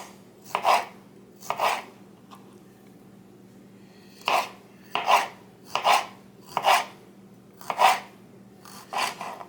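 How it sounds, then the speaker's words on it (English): A knife slices tomatoes in a series of short, crisp strokes, about eight cuts in irregular rhythm with brief pauses, close and fairly quiet. "I'm going to slice the rest of these"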